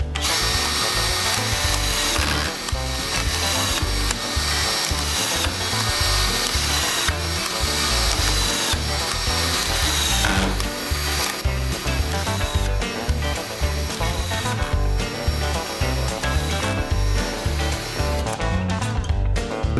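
Cordless screwdriver with a screw strip attachment driving screws into drywall, a continuous loud whirring broken by frequent short bursts and clicks as each screw is fed and set.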